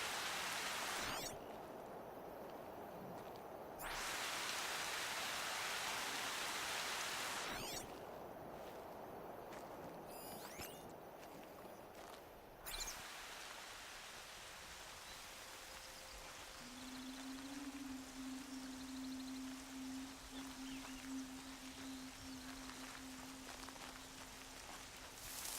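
Steady rain falls across an outdoor scene in the video game Horizon Zero Dawn, a continuous close hiss with bursts of heavier patter, a faint low tone rising near the end, and no talking.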